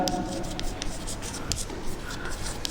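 Chalk or marker scratches across a board as an equation is written during a maths lesson, a run of short rubbing strokes close by, with soft room noise and no talk over the strokes.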